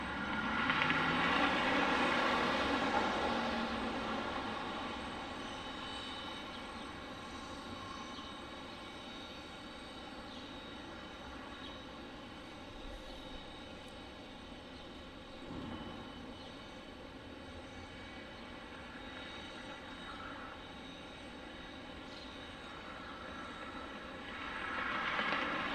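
New Icelandair delivery aircraft at Detroit Metro Wayne airport, a long sustained jet-engine roar that peaks at the start, settles into a steady distant drone and swells again near the end.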